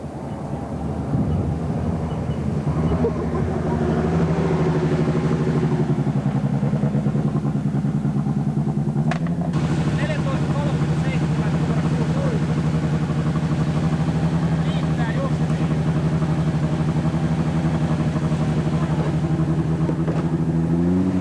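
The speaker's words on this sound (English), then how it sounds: "Car coming." A rally car on a stage of the 1986 Rally NZ roars past loud and close, its engine note building, shifting sharply midway and then droning on, with no talk over it.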